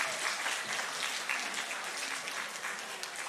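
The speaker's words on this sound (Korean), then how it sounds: "박수 한 번 더 하시죠" A church congregation claps continuously during a Sunday service, a dense, even wash of applause that holds steady throughout with no talking.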